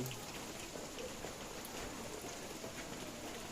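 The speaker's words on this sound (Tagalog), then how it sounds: "Hindi na mainit kasi maulan." Steady rain falls in the mountains of Tanay, Daraitan, a dense, even patter with scattered droplet taps, continuous and moderately soft throughout.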